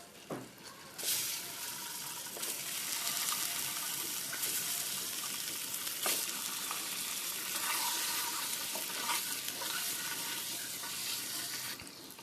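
Scored whole eggs fry in masala for egg biryani, a steady broadband sizzle with occasional sharp crackles and spits running continuously throughout, no voices.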